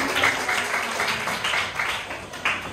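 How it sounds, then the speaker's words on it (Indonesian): Students in a classroom clap together after a prayer, producing a moderately loud run of applause with bursts recurring roughly every half second across the clip. "tepuk tangan dulu dong"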